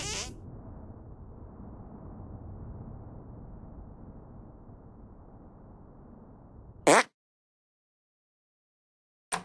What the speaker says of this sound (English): Make your fart detonate behind me.